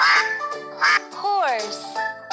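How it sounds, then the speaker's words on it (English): Duck quacking in a children's animal puzzle game, a short burst of quacks over bright jingling game music, close and loud, with a voice naming animals. "Dog. Duck."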